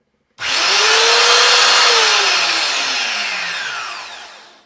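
A belt grinder starts up and runs with its abrasive belt deliberately misaligned, a loud steady whirring hiss with a gliding pitch that slowly sinks as the machine winds down near the end.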